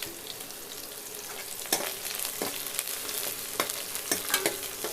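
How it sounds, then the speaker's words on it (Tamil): Onion fries in hot oil with cinnamon, cloves and cardamom for a thalicha gravy, hissing steadily and close, broken by the scrape and clack of stirring against the pan. "பட்டை கிராம்பு பொரிஞ்சு வந்ததும் நம்ம மிக்ஸில் வச்சுருந்த வெங்காயத்தை சேர்த்துக்கலாம்"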